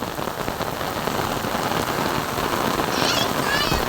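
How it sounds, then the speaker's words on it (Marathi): Steady rain pouring down, a thick continuous hiss of drops drumming on surfaces, close and even from start to finish, with a faint chirping sound near the end. "पाऊस चालू झाला"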